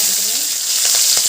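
Green chilli dropped into hot oil with mustard seeds and curry leaves gives a steady close hiss, with a few sharp crackling pops near the end.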